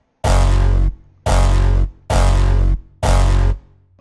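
A resampled bass note in a music production session, played as four loud, sustained notes of equal length in a steady rhythm with short gaps between them, with no voices.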